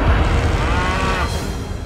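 A water buffalo moos in one long, loud, close low bellow that lasts most of the moment.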